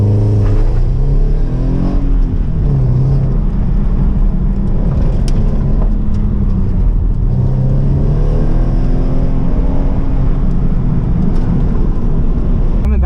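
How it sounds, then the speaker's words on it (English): Toyota 86 autocross car on an easy warm-up lap, its engine droning loud and steady with gentle pitch rises and falls as it accelerates and eases off, wind and road noise close throughout with no talk. "This is a warm-up lap for the car to see what it's like with the new upgrades."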